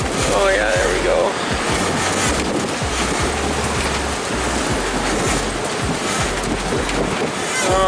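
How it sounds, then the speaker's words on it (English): Ocean waves crash and wash over a sailboat cockpit in rough three-meter seas, with constant wind buffeting the microphone and heavy low rumble throughout; a voice speaks briefly over the noise. "I'm taking another couple washes into the cockpit"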